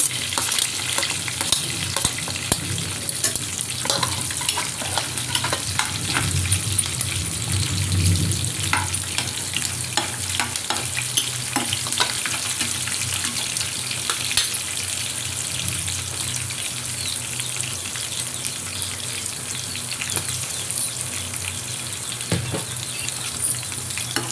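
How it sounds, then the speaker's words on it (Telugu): Green chillies fry in a hot oil pan for a bean curry, a dense continuous sizzle and crackle with occasional stirring scrapes, close and steady throughout. "ఈ ఎగుతున్నప్పుడే పచ్చిమిర్చి కూడా వేసేసుకోవాలి"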